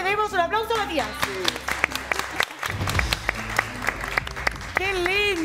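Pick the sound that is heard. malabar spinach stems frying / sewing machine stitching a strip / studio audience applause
studio audience applause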